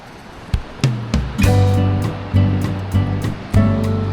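Sea waves at low tide wash over exposed rocks close by in a series of splashing surges, with a steady low rumble running underneath.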